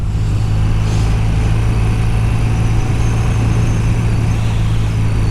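A 41-year-old BMW R100CS Airhead motorcycle engine runs steadily with a smooth, low, even rumble that never changes pace, close by and without any voices.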